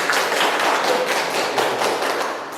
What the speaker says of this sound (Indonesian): Tepuk tangan dulu semuanya ya.